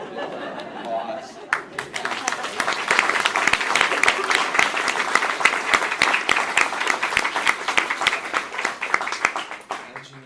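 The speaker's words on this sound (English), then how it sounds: "I think we should give them applause" Sustained applause from an audience at a poetry reading, dense clapping that swells after a quiet start and carries on steadily, with some chatter and a few chuckles mixed in.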